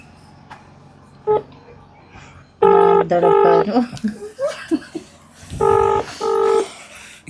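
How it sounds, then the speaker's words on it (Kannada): Telephone keypad tones as a call is placed: a single tone, then a tight run of dialing beeps, more beeps after a pause, with people talking and chuckling between them. "ಇವಾಗ ಫೋನ್ ಮಾಡ್ತೀನಿ ಮತ್ತೆ."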